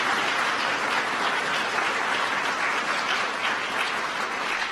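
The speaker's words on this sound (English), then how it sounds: "Would you give all of them a round of applause?" A full audience gives a round of applause at an ambassador's swearing-in ceremony, thick continuous clapping that holds steady and loud throughout without any talking.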